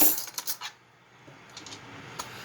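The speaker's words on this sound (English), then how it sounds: "Getting this spoon out here." Metal spoons, forks and other silverware clink and rattle in a kitchen, a quick burst of bright clatter followed by quieter scattered taps, no talking.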